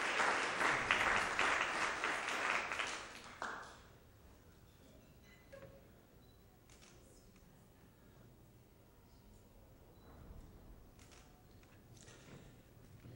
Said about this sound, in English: a round of applause for you